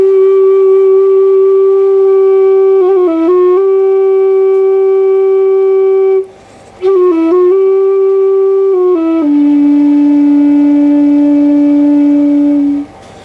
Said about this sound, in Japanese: これがケーナですね